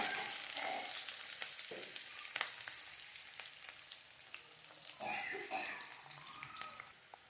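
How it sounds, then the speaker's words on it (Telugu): Onions and green chillies fry in a pan with a soft, steady sizzle and occasional light crackles, fairly quiet and without voices. "ఉల్లిగడ్డ పచ్చిమిర్చి మంచిగా వేగింది"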